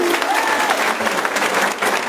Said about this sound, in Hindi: भाई अगर सिंह चौटाला जी का जोरदार तालियों से स्वागत करेंगे सभी साथी।